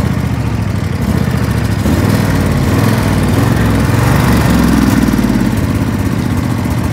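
Lawn mower engine running steadily outdoors while cutting a lawn, a loud, continuous close-up drone with a slight rise and fall in pitch and no talking.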